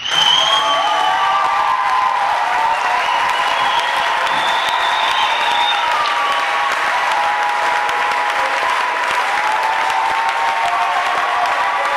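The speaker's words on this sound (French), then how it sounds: "Je veux que nous puissions maintenant acclamer pour le roi de gloire." A church congregation applauds and cheers in praise, dense sustained clapping with whoops and shouts filling the whole stretch at steady loudness, with a few voices calling out over it.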